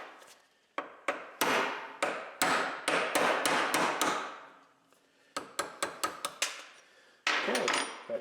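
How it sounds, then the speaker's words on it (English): A hammer striking a steel punch to drive a pin out of a Model TT Ford chassis: a sharp series of ringing metallic blows, roughly two to four per second in bursts separated by short pauses, close and loud with no talking. "let's take a hammer and a punch"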